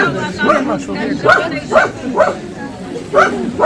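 A dog barks and yips on a theatre stage during an amateur play, several short barks and whimpers at an even pace, close and loud, mixed with voices speaking.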